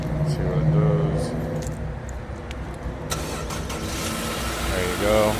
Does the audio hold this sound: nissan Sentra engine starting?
yes